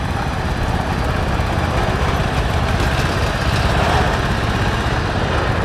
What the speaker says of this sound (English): Here we have a John Deere 216 lawnmower